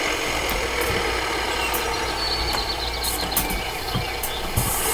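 Tractor engine idling low and steady in Farming Simulator 2015, a continuous rumble with a faint hiss and a few light clicks over it.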